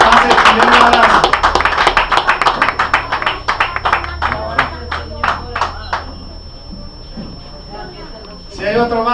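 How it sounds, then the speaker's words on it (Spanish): A church congregation claps in a rapid burst that slowly thins out to scattered claps, loud and close, with voices speaking over it and a voice rising again near the end. "Vamos a dar un aplauso al Señor."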